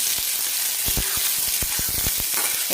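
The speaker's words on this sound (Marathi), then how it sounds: "एक कांदा मोठा असा बारीक चिरून घेतलेला तो टाकून घेऊ आणि छान याला सोनेरी कलरवर आपल्याला परतून घ्यायचा" Large, finely chopped onion sizzles steadily in a pan as it browns toward golden, with frequent scraping and stirring clicks over the constant frying hiss.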